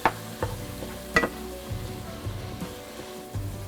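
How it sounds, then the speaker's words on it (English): Ingredients for homemade American goulash brown in a pot. A soft sizzle runs under a few sharp spoon clinks and scraping stirs, close and fairly quiet, with no speech. "So we're browning this."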